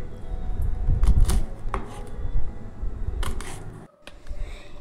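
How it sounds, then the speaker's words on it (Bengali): Tender moringa drumsticks being cut into pieces with a knife, a run of irregular close chops and taps against a board, with brief pauses between cuts. "এইভাবে সমস্ত ডাঁটাগুলো আমি কেটে নিলাম।"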